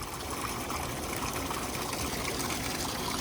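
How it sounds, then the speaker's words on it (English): A single jet running in a six-person hot tub spa with an air mix control, giving a soft, steady bubbling trickle and gush of water throughout, fairly quiet and close, with no talk. "So this is just that one jet."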